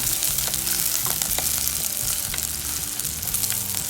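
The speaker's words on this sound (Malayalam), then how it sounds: "അതിലേക്ക് അതും കൂടി ഇട്ടിട്ട് ഇത് നന്നായിട്ട് വഴറ്റുക" Brinjal with dried red chillies sautéing in a pan for a Palakkad-style brinjal puli, a steady close sizzle and crackle of frying with occasional stirring scrapes, no voices.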